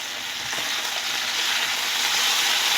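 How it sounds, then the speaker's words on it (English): Ground turkey with paprika and olive oil frying in a pan as it is stirred, a loud continuous sizzle close by with a few faint scraping knocks and no talking. "let's stir this up"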